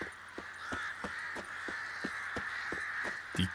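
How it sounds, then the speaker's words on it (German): Crows in The Witcher 3 give a string of rhythmic caws, about two or three per second, over a constant hissing outdoor ambience, moderately loud with a louder cluster at the end. "Die Krähen."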